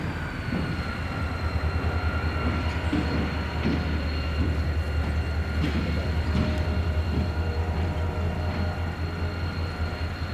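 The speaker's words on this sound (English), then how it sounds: "After crossing US 30, the train will run north towards the end of the line to tie down for the day." An R.J. Corman Railway train rolls steadily past close by after crossing US Route 30, a continuous loud rumble and wheel noise with a few clicks over the rail joints, and no one speaks.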